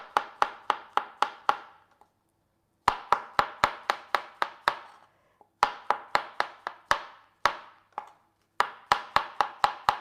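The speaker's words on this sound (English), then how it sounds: "And they're just going to be sliced." Knife slicing mushrooms on a cutting board: quick runs of crisp, evenly spaced chops, each burst of six or seven strokes followed by a brief pause, close and clear against silence.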